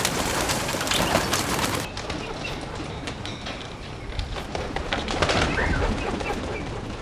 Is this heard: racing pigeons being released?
yes